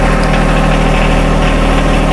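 A compact tractor engine running steadily at idle, loud and close, with a constant low rumble and vibration throughout and no talking.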